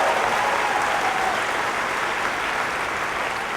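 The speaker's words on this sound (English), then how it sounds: "Give Judy a big round of applause" Loud, continuous applause from a rally crowd in Virginia greeting a congressional candidate, a dense wash of clapping that holds steady and slightly eases toward the end.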